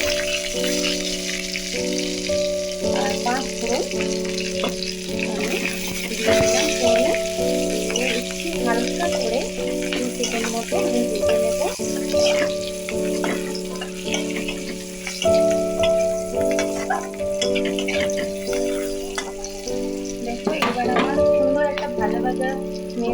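Cumin seeds and green chilies frying in leftover oil in a wok after prawns, a close, continuous sizzle with stirring scrapes, with a voice talking over it throughout.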